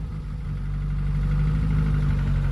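A 1948 Peugeot 202 engine idles steadily nearby, a low, even rumble with a droning hum that holds constant and slightly builds, no voices.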